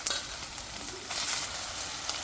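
Tomatoes sizzle in a hot pan with onion, ginger and garlic, a steady close hiss of frying with small crackles.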